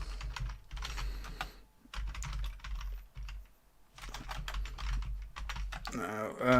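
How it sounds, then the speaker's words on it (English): Rapid, uneven clatter of a computer keyboard being hammered during play of the arcade game Mac Breakers, loud and close in bursts with short pauses, and a sharp electronic game sound at the very end. "if you want to hear me bashing more keyboard, I could keep playing it"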